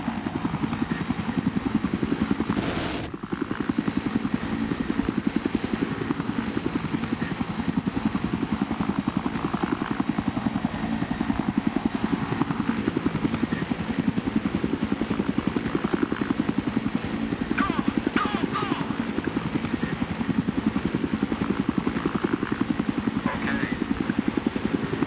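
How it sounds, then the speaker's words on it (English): A helicopter in the video game Battlefield 3 drones steadily and loudly through the whole stretch with a continuous rotor and engine hum, with players talking over it. "Look at the chopper!"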